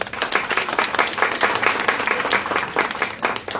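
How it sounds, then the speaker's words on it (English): Enthusiastic applause from an audience at a book launch, dense steady clapping sustained for a few seconds with no pauses. "Round of applause, everyone."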